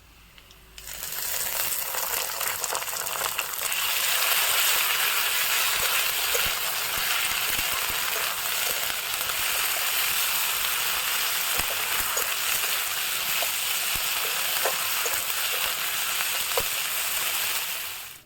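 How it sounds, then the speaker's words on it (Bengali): Onions with ginger-garlic paste fry in a pan, a steady close sizzle and crackle that holds for most of the stretch, with occasional light clinks. "আদা রসুন বাটাটা দিয়ে পেঁয়াজের সঙ্গে খুব ভালো করে ভাজবো।"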